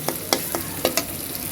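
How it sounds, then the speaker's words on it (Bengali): Spice paste and potatoes sautéing in oil in a pan for a fish curry, with a steady sizzle and several sharp scraping strokes of a spoon or spatula stirring. "এই মশলাটা সুন্দরভাবে কষানো হয়ে গেলে পরে আমি আলুটা দিয়ে দিই।"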